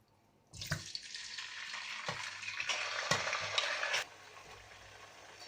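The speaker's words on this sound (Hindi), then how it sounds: "चिकन को मैं ऑयल में फ्राई करूंगी" Half a chicken drops into about a cup of hot oil in a karahi, a sudden loud sizzle that keeps hissing steadily and close, with a few sharp spatters before dying down.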